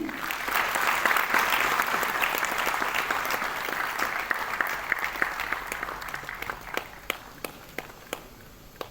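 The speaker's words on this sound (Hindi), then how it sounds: "आप सबकी करतल ध्वनि के मध्य जोरदार तालियों में" Audience applause at a DRDO bioplastic carry bag launch ceremony, a full burst of clapping that thins into scattered individual claps toward the end.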